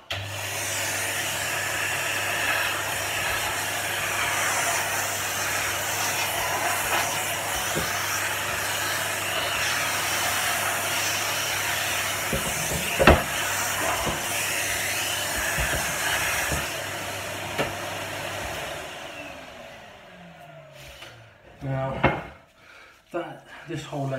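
Shop vacuum sucking up wood dust from sanding a dining table, a steady loud whine running for most of the stretch, then cutting off into knocks and handling sounds near the end.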